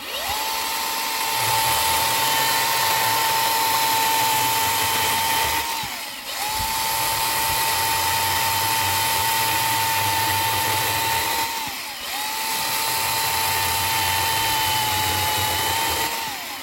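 A chainsaw with a sharpened 3/8 picco chain cuts through hardwood branches of honey locust and hard maple, giving three long, loud, steady cutting runs with brief dips between them.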